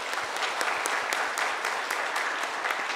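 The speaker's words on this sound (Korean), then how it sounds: "인사할 때 크게 박수로 환영해 주시기 바랍니다" A church congregation at a Christmas service claps to welcome a newly baptized member, a steady, moderately loud patter of many hands with no break and no voices over it.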